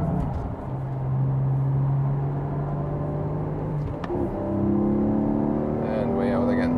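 A Porsche 718 GTS 4.0 sports car engine drones steadily at high speed on a race track, its pitch holding level, dipping briefly around a gear change, then climbing again, loud and continuous under faint background talk.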